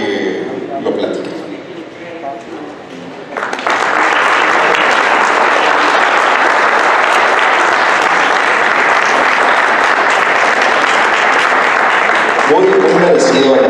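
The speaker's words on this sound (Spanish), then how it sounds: "Muy merecido el aplauso para Bené, maestro Bené Córdoba Gascón" Audience at a book presentation bursts into loud, sustained applause for the author, a dense wash of clapping lasting about nine seconds after a brief stretch of speech at the start, with talk returning as the applause ends.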